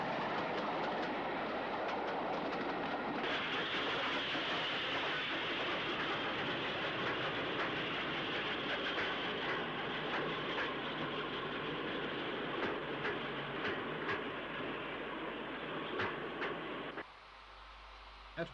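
The Merchant Navy class steam locomotive Blue Star hauls a train toward Bournemouth, a loud continuous rushing roar with faint rhythmic rail clatter that drops off abruptly near the end.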